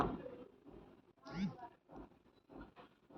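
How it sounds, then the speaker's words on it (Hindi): A cat meows once clearly in a quiet room, a short rising cry in the middle, with faint softer sounds around it. "कुछ ही क्षणों में बिल्ली के बोलने से कमरे में फैली सन्नाटे की चादर हट गई"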